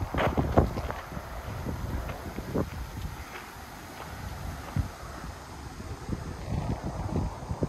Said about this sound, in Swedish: Det är friska vindar.